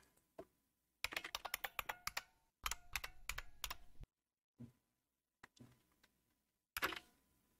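Rapid bursts of key clicks on a computer keyboard as a username and password are entered at a Linux login, two quick typing runs followed by a few isolated taps and a final keystroke, close and quiet.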